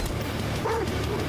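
Dog in the video game Necromunda: Hired Gun giving a brief yelping, whimpering bark, mid-loud over a steady low game rumble, lasting about a second.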